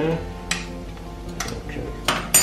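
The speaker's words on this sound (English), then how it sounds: "So we're going to mix all that round now." Vegan meatloaf mixture with four Knorr stock cubes being stirred in a pan, with scraping and clinks of a utensil against the pan in a few short bursts over a low simmer.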